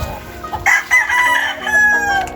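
Gamefowl roosters on a farm crow in overlapping calls, with a bright, strained crow rising over other birds at middle distance and a steady background of fowl clucking.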